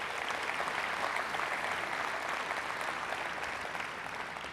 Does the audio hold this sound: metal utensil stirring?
no